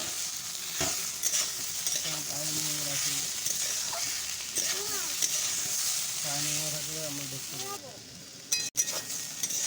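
A pan mixture sizzling while salt and turmeric are stirred in, with steady frying hiss, utensil scrapes and a clink near the end, and someone talking over it.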